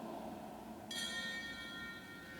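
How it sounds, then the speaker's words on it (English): A single ship's bell strikes once with a bright ringing tone that decays slowly, marking the end of a Navy watch at a military retirement ceremony, heard over low room ambience. "In Navy tradition, 8 bells signifies the end of the watch."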